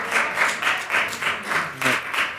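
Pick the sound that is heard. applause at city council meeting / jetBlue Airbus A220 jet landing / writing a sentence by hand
applause at city council meeting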